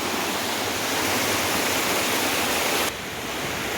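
Steady close roar of a waterfall deep in the Mayurbhanj hill forest, a thick unbroken rush that dips abruptly quieter near the end but keeps flowing, with no voices.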